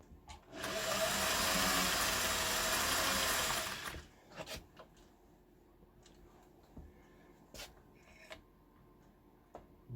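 Singer 401A sewing machine running through a decorative stitch pattern, a loud continuous whirring hum for about three seconds that stops abruptly and is followed by a few scattered light clicks and handling noises.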